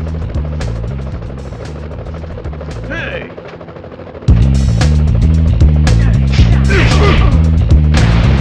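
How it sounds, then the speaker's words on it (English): Police helicopter in a Spider-Man video game, its rotor thumping as a loud, steady, rapid chop throughout, briefly dipping then surging back in with clicks and game effects layered over it. "Police choppers."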